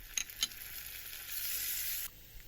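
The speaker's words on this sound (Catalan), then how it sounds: "Posem a fregir la ceba i al cap d'una estona el tomàquet ratllat." Onion sizzles steadily in a hot frying pan, with a couple of sharp clicks at the start and the sizzle swelling briefly before settling.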